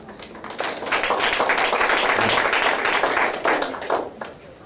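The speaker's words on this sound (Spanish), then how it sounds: "vamos a agradecer al doctor José Grande y darle un fuerte aplauso" An audience at a medical congress on pelvic floor anatomy applauds, a dense, loud roar of many hands clapping that swells quickly, holds steady, then tapers near the end.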